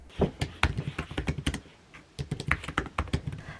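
Typing on a portable tri-fold keyboard with quiet scissor switches: a quick, irregular run of soft clicky keystrokes, close and clear, with no voices.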